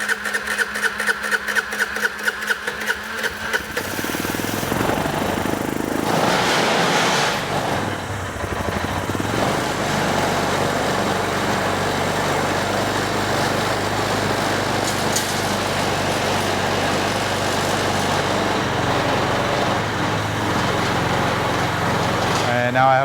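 A Vespa ET4 scooter engine, freshly serviced in the fuel system and air filter, putters at first, then catches and settles into a loud, steady buzzing idle up close, with a voice talking over it.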